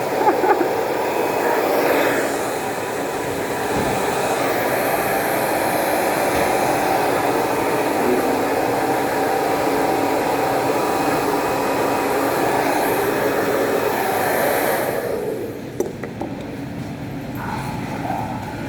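A hair dryer blows with a steady, loud whooshing roar, close by, then cuts off near the end, leaving faint rustling.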